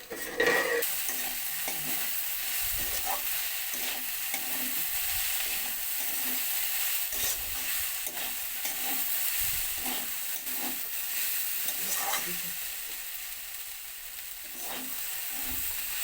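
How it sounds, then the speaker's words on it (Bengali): Shredded cabbage fries in a covered pan with a steady, soft sizzle and hiss, punctuated by occasional stirring scrapes and muffled knocks, all fairly quiet. "ঢাকা চাপা দিয়ে ভালো করে ভেজে নেব"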